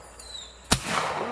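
A single sharp, loud shotgun blast from a Hatfield SAS-20 on an outdoor sporting clays course cracks out mid-clip, then a brief fading echo follows after a quiet lead-in.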